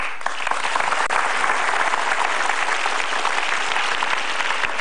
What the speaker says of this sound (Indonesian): Main tepuk tangan aja.